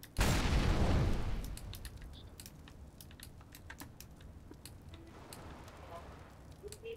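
A fire grenade is thrown in a competitive Counter-Strike: Global Offensive match. A loud burst opens, then a crackling burn follows under scattered clicks and game noises, with players talking.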